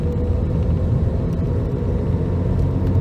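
A Geo Prizm car runs along with a steady, close engine drone and low road rumble throughout, with no clear break for a gear change.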